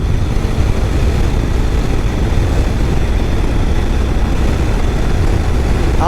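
A 2022 third-generation Honda Grom motorcycle engine runs in fifth gear at speed, its steady loud drone mixed with heavy wind rush, continuous and close throughout.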